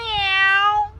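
A human voice imitates a cat with a single drawn-out meow, clear and close, sliding slightly downward before trailing off.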